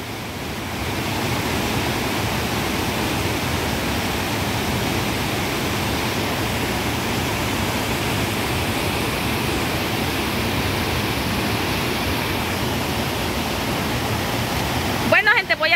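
Floodwater from a river rushing loudly and continuously, a dense broadband roar that holds steady throughout, with a brief louder disturbance at the very end.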